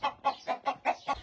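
Village chickens clucking close by, six short rhythmic clucks evenly spaced in quick succession, clear and moderately loud with little else around.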